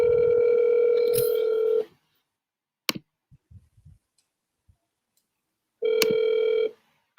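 An outgoing phone call rings back twice, each a long steady electronic tone lasting close to two seconds, separated by a few seconds of near silence broken by faint clicks and small taps, with no talking.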